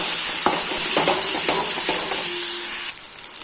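Garlic paste is sautéed in a pan for an egg omelette gravy, with several rhythmic spatula strokes over a loud steady sizzle that drops off near the end.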